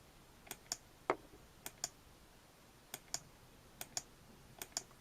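Microsoft wired computer mouse clicking in a quiet room, a dozen or so sharp, close clicks in uneven pairs and singles over about five seconds.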